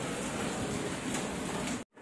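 Steady rain falling after Cyclone Remal, a dense, even hiss close by that runs without a break before cutting off abruptly near the end.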